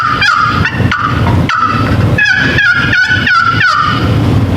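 A hunter works a turkey call at a hunting seminar to locate birds, giving a loud, clear series of repeated yelping notes in quick rhythm, several bursts in a row with brief gaps.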